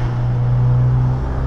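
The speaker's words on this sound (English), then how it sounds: "it sounds good when you get up in the revs too" A steady, droning Mazda Miata NC engine hum through an aftermarket exhaust holds at an even pitch throughout, close and moderately loud, with no voices.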